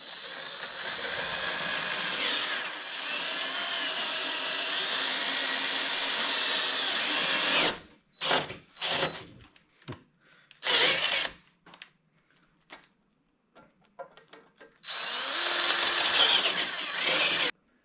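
A handheld power drill runs in one long continuous whir, then stutters through a series of short on-off bursts before a final sustained spin, drilling a hole for a threaded insert.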